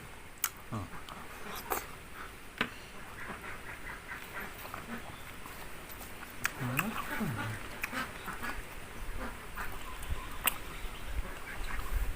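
Ducks quack behind a house in a rural yard, scattered calls heard faintly against outdoor ambience while someone talks over them.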